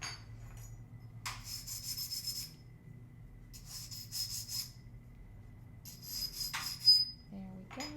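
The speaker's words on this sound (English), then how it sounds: "I should definitely trim these trivets" Enamel trivets being trimmed, heard as short bursts of scraping and rasping close by, repeated several times with quiet gaps between them.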